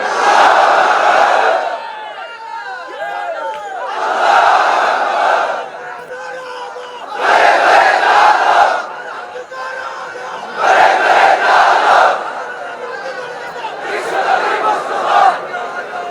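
A large crowd chants the takbir in unison at a Bangla Islamic sermon, loud repeated bursts of massed shouting in a steady call-and-response rhythm, roughly five surges separated by brief lulls.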